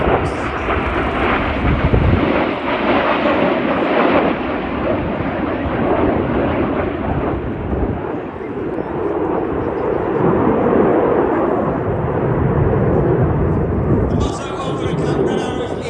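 RAF Red Arrows jets roar overhead at the Midlands Air Festival as Reds 4 and 5 fly the roll-outs manoeuvre, a loud sustained jet rumble that swells and fades, with a commentator talking over it.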